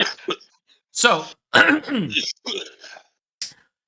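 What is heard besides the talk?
coughing and throat clearing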